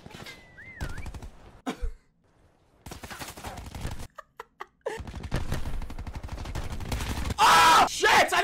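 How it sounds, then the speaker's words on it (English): Rapid gunfire as players shoot at a batch of placed decoys in a multiplayer shooter, bursts of shots broken by brief pauses alongside game effects and a player talking throughout. "They're shooting everything."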